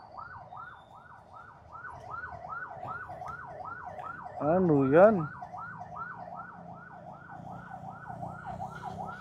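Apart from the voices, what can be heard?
ambulance siren passing on the street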